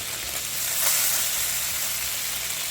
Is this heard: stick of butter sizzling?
yes